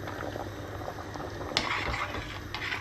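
Sauce reduces at a low simmer in a pot while potatoes cook nearby for a Hungarian dish, giving a soft steady bubbling hiss with occasional faint pops and clinks, quiet and close.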